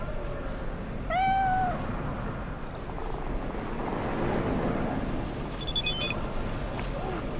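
A cat in Cyberpunk gives one clear, close meow early on, followed by quieter chirps and rumbling ambient noise, with no talking.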